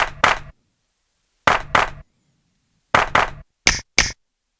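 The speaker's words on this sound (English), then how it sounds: "Same thing with that finger snap." A finger snap sample triggered on an Akai MPC One pad, heard as crisp isolated snaps in pairs with silent gaps, the final two brighter and thinner as if filtered, played for a lo-fi hip-hop beat.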